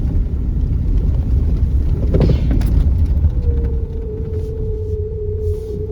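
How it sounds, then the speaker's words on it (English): A Chevrolet S10 pickup skids across a field, its engine rumbling steadily and loudly with road-like noise throughout and a faint rising whine near the end. "we definitely went into a skid and the ABS motor did nothing"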